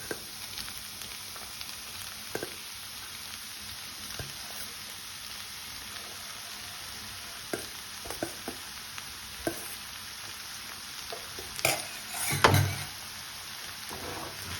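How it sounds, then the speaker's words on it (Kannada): Cooked Sona Masoori rice tossed into a hot pan for homemade chicken fried rice, giving a faint steady sizzle with scattered soft scraping stirs and a louder clatter near the end. "ಈಗ ರೈಸ್ ಹಾಕೋಣ."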